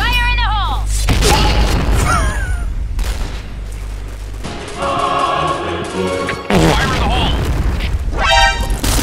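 A grenade goes off in the online shooter Point Blank with heavy booms amid game gunfire, loud and close, while voices talk excitedly over the action.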